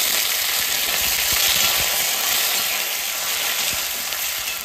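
Curry leaves crackle and sizzle in hot oil while sambar is being made, a steady, loud, broadband frying hiss with small pops, continuous throughout and with no talking.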